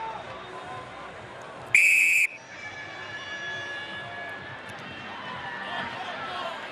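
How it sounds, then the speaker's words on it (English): A referee's shrill whistle blast at a rugby sevens plate semi-final between Australia and Canada in Las Vegas, one sustained tone of about half a second rising loud over steady crowd noise and a commentator's voice. "Wait for the whistle."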